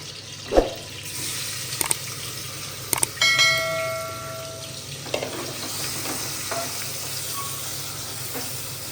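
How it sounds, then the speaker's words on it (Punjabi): Saag gets a tempering of hot desi ghee, a continuous close sizzle broken by a few sharp metallic clinks and ringing tones from a utensil against the pot. "ਦੇਸੀ ਘਿਓ ਦਾ ਹੀ ਤੜਕਾ ਲਾਉਣਾ ਹੈ ਇਸ ਸਾਗ ਨੂੰ"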